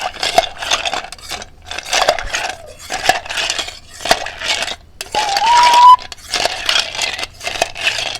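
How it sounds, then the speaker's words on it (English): A spoon stirring a mixed drink in a glass, giving repeated bursts of bright clinking and rattling, probably against ice, in a steady rhythm of short strokes. The sound is close and fairly loud, with no talking. "We're just going to stir it."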